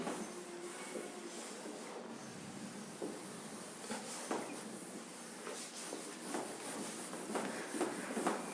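Someone rubs out writing on a board in a series of faint, soft scrubbing strokes against a quiet room background, with no talking.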